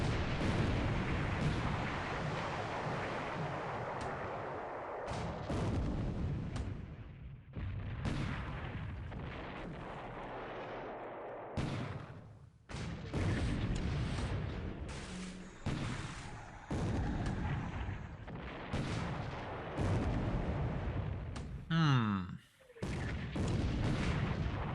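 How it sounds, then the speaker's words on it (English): Torpedoes fired in a naval battle in the War in the Pacific video game, a long run of loud booming launch and blast sounds, repeated and broken by brief pauses. "A lot of torpedoes are being shot right now."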